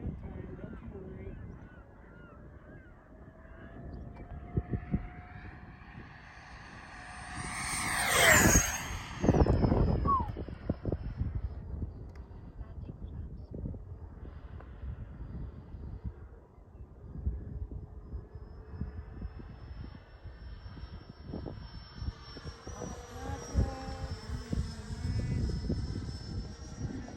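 An FMS Viper 15th Anniversary RC model jet flies overhead, its ducted-fan whine swelling to a loud, close pass and fading, with people talking and a distant honking goose nearby.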